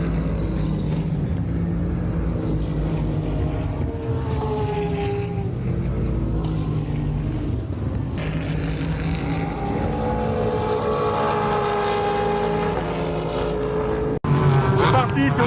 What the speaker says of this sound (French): On profite des pré-qualifs du GT3